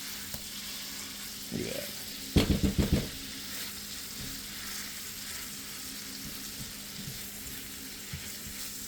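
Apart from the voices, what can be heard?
patty melt frying, flipped and mashed down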